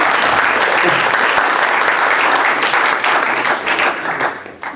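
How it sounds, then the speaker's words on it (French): Audience applause at a theology conference session on baptism: dense, sustained clapping from a full room, loud and steady throughout before thinning slightly at the end. "Déjà, on les applaudit, s'il vous plaît, c'est magnifique."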